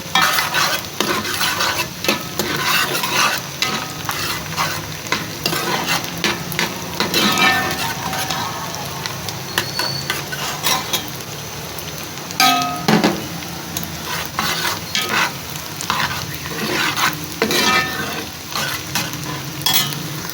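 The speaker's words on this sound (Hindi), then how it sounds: "ये 1 चम्मच साबुत ज़ीरा, इसको भी भून लेंगे।" Whole cumin seeds roast in a pan with some sliced ingredient, a loud, close sizzle broken by repeated scraping and clinking as a spoon stirs them over about twenty seconds.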